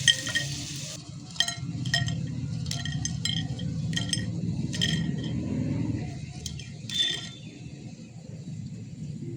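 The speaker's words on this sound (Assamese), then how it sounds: "এইখিনি অকণমান ৰঙা হোৱালৈকে মই ভাজিম," Methi (fenugreek leaf) pakoras frying in oil make a low bubbling sizzle, while a spoon or ladle repeatedly clinks against the metal pan close by.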